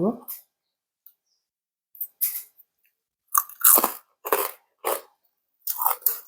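Fried pork rinds are bitten and chewed close to the mic, giving about half a dozen loud, separate crunches with short quiet gaps between them, after a brief voice at the start.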